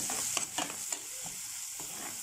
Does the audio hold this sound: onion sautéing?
yes